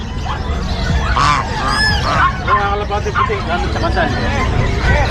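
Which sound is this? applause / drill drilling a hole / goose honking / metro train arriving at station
goose honking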